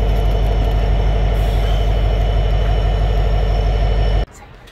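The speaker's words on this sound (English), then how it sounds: "On board the Alaska Railroad on the way to Anchorage via multiple other stops." An Alaska Railroad passenger train riding through winter toward Anchorage, heard from on board as a steady, loud low rumble and hum of the carriage that cuts off abruptly near the end.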